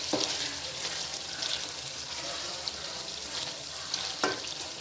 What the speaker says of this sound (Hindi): अब इसमें पालक ऐड करते हैं।